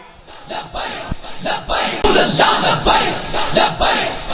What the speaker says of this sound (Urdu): نعرے دی گونج وچ استقبال فرماؤ نعرے تکبیر